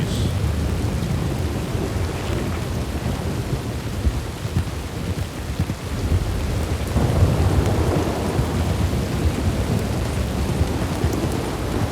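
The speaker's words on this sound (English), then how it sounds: "that's just terrible luck having a storm start right when I start my trial" Thunderstorm with rain in the Wild West game WildRP: steady heavy rainfall with rolling thunder rumbling low and loud throughout, swelling again midway, with no voices.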